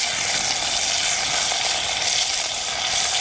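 Food fries on a skillet at a kayak campsite on Kelleys Island, a loud, continuous close-up sizzle with no talking over it.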